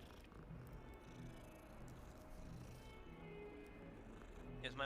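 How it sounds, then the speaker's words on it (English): A cat purrs softly and steadily at close range in a quiet room, a low continuous rumble with faint background hum and a small clatter at the very end. "Oh my god, it's the cat."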